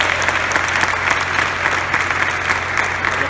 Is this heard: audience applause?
yes